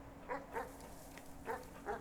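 A dog in the video game Animal Well barks in short, high yips, four sharp calls in two pairs, over a quiet electronic hum.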